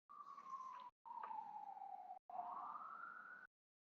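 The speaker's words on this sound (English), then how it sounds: "Can you hear those sirens in the background?" Siren wailing in three long sweeping phrases with brief gaps, rising and falling in pitch, moderately loud and heard alone without talk.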